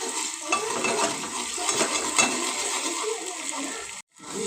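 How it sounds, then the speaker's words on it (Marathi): Ginger garlic paste fries with onion in a pan, a soft steady sizzle under gentle scraping stirs, cutting out briefly near the end. "अद्रक लसणाची पेस्ट चांगली भाजून घ्यायची."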